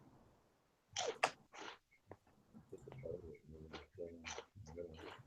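Close, sharp crunching bursts of someone chewing a crisp snack, several bites in uneven succession with brief pauses between.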